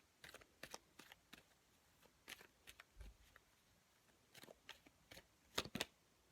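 Tarot cards shuffled and cut by hand, a string of soft, quick riffling snaps and flicks in bursts with short pauses, close and quiet, alone without talk.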